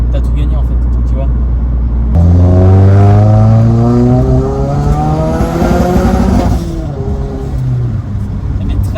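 Renault Mégane 3 RS Trophy accelerating uphill with wheelspin as power fails to reach the ground, turbo engine rising steadily in pitch after a sudden surge, loud and close, with people talking over it.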